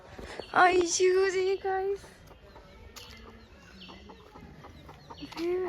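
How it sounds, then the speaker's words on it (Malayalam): High, thin peeping calls from a chick, several short chirps close by, with a person talking quietly in the background. "നല്ല കോഴിക്കുഞ്ഞ്."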